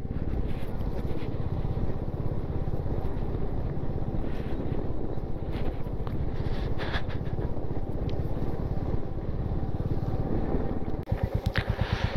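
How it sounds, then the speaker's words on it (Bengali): Cold wind roars steadily across the microphone during a ride on a rough, icy mountain road toward Bumla Pass, a constant loud buffeting that turns briefly to pulsing near the end. "আর কনকনে ঠান্ডা হাওয়া।"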